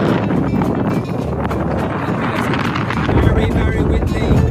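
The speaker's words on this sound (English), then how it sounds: "Very windy." Strong gusty wind buffeting a microphone on open Scottish peatland in rainy weather, a loud continuous rumbling roar with low-end thumps and surges, steady throughout.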